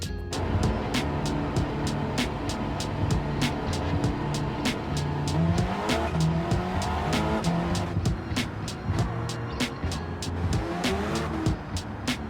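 Race cars in Gran Turismo 7 roar past with engines revving and tires squealing through corners, sharp repeated clicks punctuating the steady loud driving.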